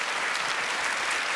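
A studio audience applauds on a French television show, a dense, even wash of clapping heard without pause across the short moment.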